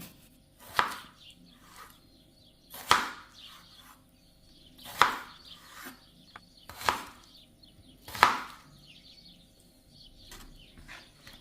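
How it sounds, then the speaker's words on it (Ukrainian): A knife dices cucumbers into large cubes on a cutting board in five separate, crisp strikes spaced a couple of seconds apart, with quiet between them. "Огурки нарізаю кубиком, таким доста великим."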